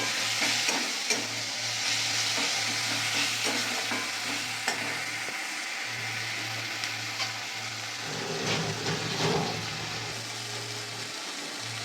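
Ginger fries in a pan for a bata fish curry, with a steady close sizzle and frequent scraping stirs throughout. A low constant hum sits underneath and briefly drops out partway through.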